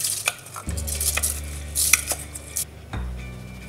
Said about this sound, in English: So we're going to stir it gently.